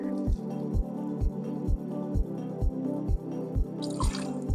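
Homemade red hot cinnamon candy liqueur pours from a bottle in a steady series of evenly spaced glugs, close and fairly quiet, with a faint clink near the end.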